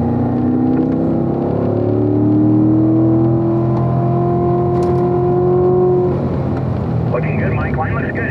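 A Corvette in third gear on a race track during an owners' driving school, its engine a steady, loud drone whose pitch climbs slowly and then eases, with rushing wind noise throughout.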